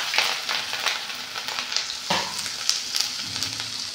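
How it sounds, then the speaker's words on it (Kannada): Ginger frying in hot oil in a pan while making kaara pongal, a steady close sizzle with occasional spatula scrapes and stirring clatter, and no voice. "ಇದಕ್ಕೆ ಶುಂಠಿ ಹಾಕೋತಾ ಇದ್ದೀನಿ ಫ್ರೆಂಡ್ಸ್."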